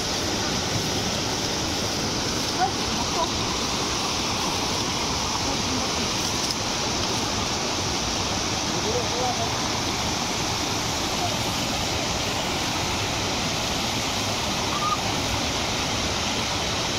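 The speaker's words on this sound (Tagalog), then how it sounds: "Nanadyo sa akong atubangan karon ng Angel Waterfalls." Angel Waterfalls in Balutakay, Bansalan, Davao del Sur, a waterfall in the woods, pouring as a constant, loud broadband rush of falling water, steady and unbroken with no talk over it.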